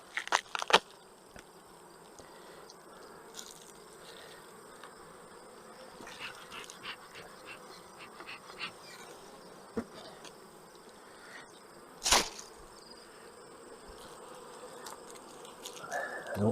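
Honey bees hum in a constant, dense drone around the hives during a beekeeper's work, with occasional close handling clicks and knocks, the loudest near the start and around the twelve-second mark.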